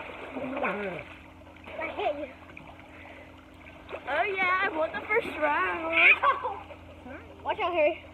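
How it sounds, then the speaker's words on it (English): Water splashes in an outdoor swimming pool as children and adults chatter and call out, the splashing growing louder in bursts during the second half. "we should do a little splash"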